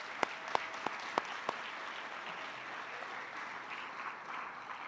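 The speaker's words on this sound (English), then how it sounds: "we'd like to give a huge round of applause to our parents who are with us today" Soft, diffuse applause from an audience at a high school recognition breakfast, honoring parents, with a few sharp nearby claps standing out at the start before the clapping settles into an even patter.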